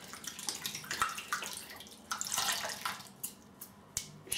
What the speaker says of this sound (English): Let's wash this out.